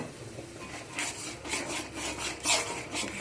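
Rhythmic scraping of a spatula stirring and stir-frying pabda fish curry with black cumin in a pan, repeated rasping strokes close up and alone.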